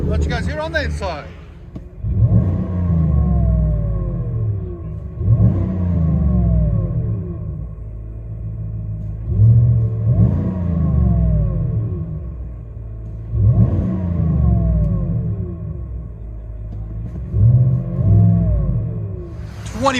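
Chevy 6.6L V8 work truck exhaust heard from inside the cab on a rainy day, a steady low drone that swells in a few slow revs beneath someone talking throughout.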